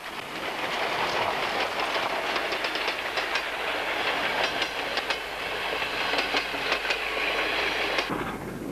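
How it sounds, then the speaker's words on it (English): A Polish OL-49 steam locomotive pulling double-decker carriages rumbles steadily past near Wolsztyn, with rhythmic clickety-clack from the wheels over the rails, a dense continuous roar that cuts off near the end. "Another OL-49 pulling a scheduled train."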